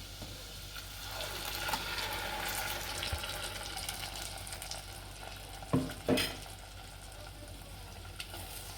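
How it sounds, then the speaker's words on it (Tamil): Ground paste of four tomatoes and five chillies is poured into garlic frying in a pan, giving a steady sizzle with stirring scrapes and a couple of sharper clatters near the end. "இப்போ இதில் வந்து நம்ம இப்போ அரைச்சி வச்சுருக்கிற பேஸ்ட்டை ஊற்றிக்கலாம்"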